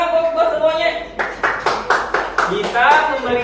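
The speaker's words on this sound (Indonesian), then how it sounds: "Wah, tepuk tangan buat semuanya." Several spaced rounds of clapping from a group of children break through a teacher's talk, each burst short and fairly close, with speech before and after.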